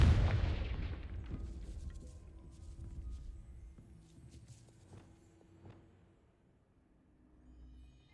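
A Confringo fire spell blasts in the Hogwarts Legacy video game near a castle gatehouse, a loud booming explosion at the start that decays into rumbling, with fainter thuds and impacts trailing after.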